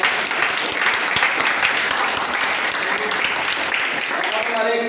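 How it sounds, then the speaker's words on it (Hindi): An audience at a gathering celebrating a student's exam selection applauds loudly: a dense, steady wash of many hands clapping that holds for the whole stretch, with some voices mixed in. "एक बार जोरदार ताली"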